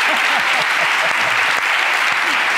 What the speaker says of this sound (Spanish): Aplausos para la ruina de Iggy Rubin